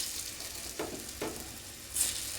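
Banana pieces shallow-fry in a pan, a steady hiss of hot oil with a few brief spattering bursts and a sharp crackle near the end, close and fairly loud, with no voices.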